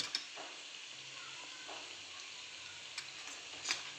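Onion and spices frying in a pan, a quiet, even sizzle with a few sharp ticks of a spoon against the pan, no speech.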